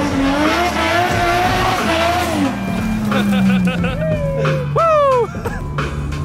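A drift car's tires squeal loudly in several rising and falling screeches over a roaring engine, with people talking and shouting throughout.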